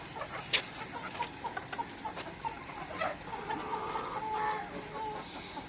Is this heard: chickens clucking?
yes